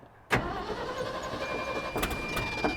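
An old, long-abandoned tractor engine turns over and catches with a sudden loud start, then runs steadily close by with a rough, even rumble and no talking.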